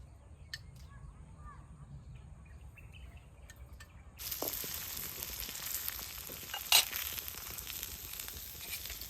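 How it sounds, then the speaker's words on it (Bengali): Paratha flatbread sizzles in hot white cooking oil in a pan, a steady loud crackle that starts suddenly partway through after a quieter stretch. "কড়াই গরম হয়ে গেছে সাদা তেল দিয়ে পরোটাগুলো হালকা করে প্রথমে ভাজবো"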